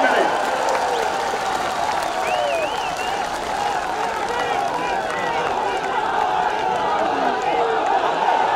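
Audience applause at an outdoor political rally in Jeypore, a dense, sustained wash of clapping from a large crowd that stays steady throughout, with some cheering mixed in.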